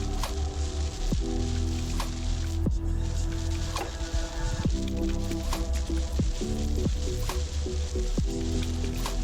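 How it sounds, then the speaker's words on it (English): Heavy rain drums on a VW while driving, a constant splattering wash with frequent sharp drips and splashes landing close by over a steady low road rumble. "This is the worst rain that I have ever driven through."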